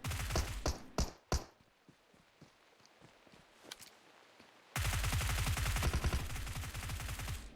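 Gunfire from a bot in a PUBG Mobile match on the Sanhok map: a few sharp early shots, then softer scattered thuds, then a sustained loud burst of rapid automatic fire through the final seconds.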